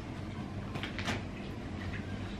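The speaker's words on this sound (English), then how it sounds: "I shut the door." A door being shut at a family holiday at the Fairmont The Palm in Dubai, with a couple of soft knocks and thuds over steady room noise and background hum.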